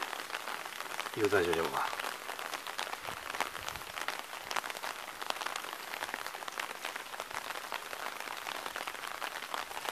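Rain patters steadily and evenly on a car driving through the Japanese countryside, a dense close hiss that lasts throughout, with a person speaking briefly near the start.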